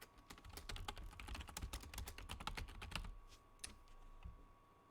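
Arrow keys tapped on a computer keyboard during a Civilization 5 game, a quick run of soft, close clicks for about three seconds, then a few sparse presses, faint and alone.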